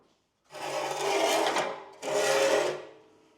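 Two rasping scrapes of a big screwdriver or lever working squashed radiator fins straight on a first-generation Toyota 4Runner, each scrape about a second long, close and fairly loud, with a short pause between them.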